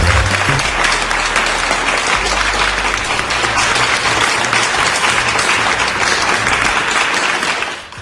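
Loud, close applause from a studio or show audience welcoming a Spanish singer, a thick continuous roar of clapping that holds steady and fades slightly at the very end, with a low background hum.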